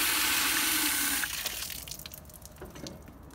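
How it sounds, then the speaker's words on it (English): Water rushes through a Hayward AquaRite Turbo Cell as it is rinsed out after descaling, a loud, close gush for about a second that then fades into trickling and dripping. "Let me rinse it out and see what we got."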